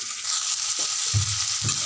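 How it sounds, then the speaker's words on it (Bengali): Potato pieces fry in hot oil with turmeric and a spice paste. The sizzle is steady and close, broken by a few low thuds and scrapes as the pan is stirred. "আলুটা একটু ভাজা হয়ে যাক।"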